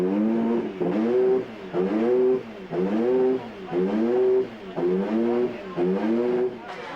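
A classic racing car engine fired up at a hill climb, loud and close, revving in about seven rhythmic, rising bursts with short dips between them, no talk.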